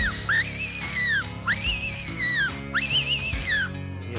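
Whistled imitation of a fox call: three rising-and-falling high-pitched notes, each about a second long with short gaps, loud and close, no speech.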